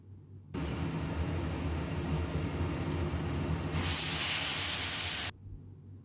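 Spice paste hits hot oil already tempered with cumin, bay leaf, dried chilli, cinnamon and cardamom for a homestyle vegetarian paneer curry, giving a steady close sizzle that surges into a loud, bright hiss partway through before cutting off.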